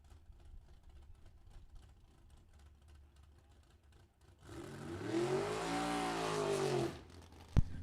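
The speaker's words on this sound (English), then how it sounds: "Continuing with license runs, Jeff Lomness in a 2006 Ford Mustang." A 2006 Ford Mustang makes a drag racing license run, starting with a faint low rumble at the strip before a loud, roaring launch that builds in pitch for about two and a half seconds, then cuts off abruptly.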